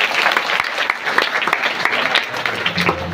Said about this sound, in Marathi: यांच्यासाठी एका जोरदार टाळ्या वाजवा